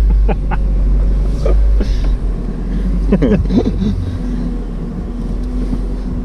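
A small, cheap convertible car drives along with its engine rumbling low and steady throughout, loud and close with wind noise, while people talk and laugh inside.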